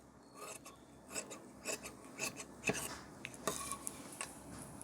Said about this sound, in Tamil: இந்த பேக் இருக்கிற அளவுக்கு அப்படியே கட் பண்ணிக்கோங்க.